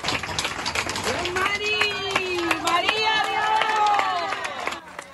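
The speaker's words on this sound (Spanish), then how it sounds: "más aplausos." Crowd applauding at the funeral procession of María Jiménez in Seville on the way to the San Fernando cemetery, a dense patter of clapping with cheers and raised voices throughout.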